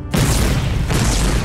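A mortar in the war game Foxhole fires a high-explosive round, a single deep, loud boom that rumbles on briefly.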